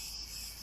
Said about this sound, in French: d'entendre les cigales qui chantent si fort